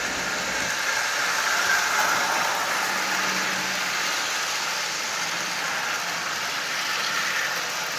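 Lionel 8200 switcher model train locomotive with an AC motor and custom tender running on track, a faint steady whirring hiss that holds evenly throughout with no voices.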